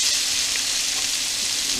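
Shrimp hit a hot skillet and set off a loud, dense, continuous sizzle that stays even and close for the whole short moment, with no talking.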